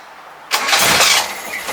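A Datsun car that has sat unused for a while cranks briefly, then its engine catches and starts with a sudden loud roar that settles into a steady, rough idle.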